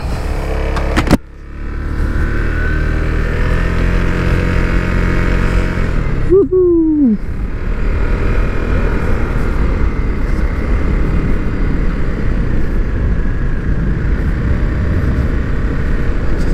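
Italjet Dragster scooter starting off and riding away, a small engine buzzing steadily with a sharp rev change partway through, under constant wind and road noise.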